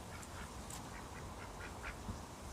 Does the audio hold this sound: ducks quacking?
yes